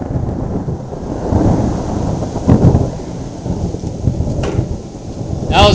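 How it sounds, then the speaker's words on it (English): Thunder rolls during a rainstorm in Pobyeda, with deep rumbling swells over a constant hiss of heavy rain and a sharper crack close by at the very end. "I just wanted to show you some of the lightning and thunder that's happening right now"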